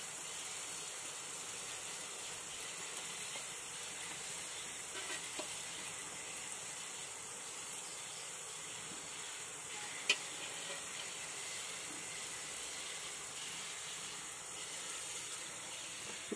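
Jalebi deep-frying in hot oil, a steady, quiet hiss and sizzle that continues without a break, with one faint click near the middle.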